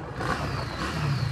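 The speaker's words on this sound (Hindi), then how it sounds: "आवाज़ भी बहुत अच्छी आ रही है इस एग्जॉस्ट की" Harley-Davidson Street 750 motorcycle exhaust while riding, a steady loud engine drone with a continuous low rumble and rising pitch as the bike accelerates, with no voices over it.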